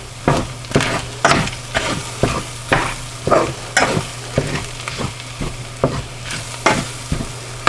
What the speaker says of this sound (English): Make sure all that flour gets mixed in there.